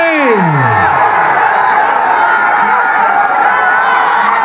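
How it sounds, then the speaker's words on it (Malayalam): Loud festival crowd cheering and whooping at the Pazhanji Perunnal elephant gathering in 2022, a dense continuous roar of many voices with shouts rising throughout. "ഉയരട്ടെ ആരവങ്ങൾ"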